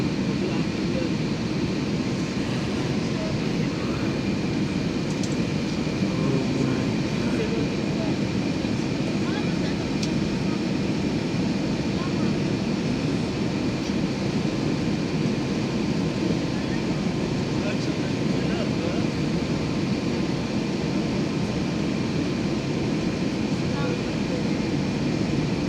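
An airplane engine drones steadily from inside the cabin, a loud even roar that runs the whole time, with people chatting faintly beneath it.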